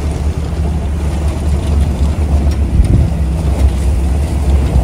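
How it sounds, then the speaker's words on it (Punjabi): A manual Land Rover-style military jeep in tree green with green leather seats drives in England, its low engine rumble steady and close throughout, with wind buffeting the microphone and no voices. "ਯੂਕੇ ਦੇ ਵਿੱਚ ਬੜੇ ਚਿਰ ਬਾਅਦ ਮੈਨੂਅਲ ਗੱਡੀ ਚਲਾਉਂਦੇ ਹਾਂ ਮੈਂ।"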